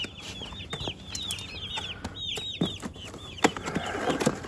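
Baby meat bird chicks in a delivery box, a busy chorus of high, rapid peeping from many birds at close range, with a few soft handling knocks and rustles.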